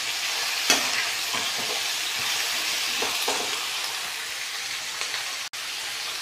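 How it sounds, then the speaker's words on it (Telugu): Vegetable pieces and tomato frying in a pan for sambar, a loud continuous sizzle with occasional scraping stirs of a spoon, close and steady throughout. "కొంచెం ఈ ముక్కలన్నీ వేగితే బాగుంటుంది."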